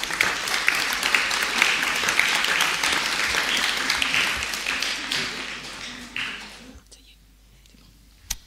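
An audience applauds students at a prize ceremony with sustained dense clapping and murmuring voices beneath, gradually thinning out and ending near silence with a final knock.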